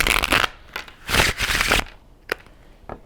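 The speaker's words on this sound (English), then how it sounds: "the sound that they make and the feeling that they have when I shuffle them" Papery riffle-shuffling of tarot cards in several quick bursts, with short snaps and taps between them, close and crisp.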